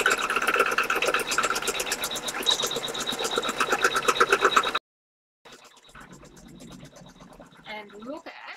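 An embroidery machine stitches a notebook cover in the hoop with a rapid, even mechanical chatter. The sound cuts out briefly, then returns fainter with a voice talking over it.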